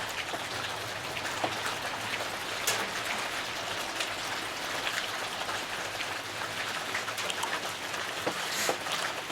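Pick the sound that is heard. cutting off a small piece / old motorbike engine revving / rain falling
rain falling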